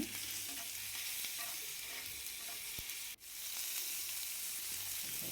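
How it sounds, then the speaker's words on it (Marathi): Cumin, mustard seeds, crushed garlic and asafoetida fry in hot oil in a pan for a spring onion and gram flour bhaji, giving a steady, close sizzle with occasional stirring scrapes and one brief dip, with no voices. "एका पॅनमध्ये तेल टाकलं आहे जिरे मोहरी कुटलेला थोडा लसूण आणि हिंग टाकला"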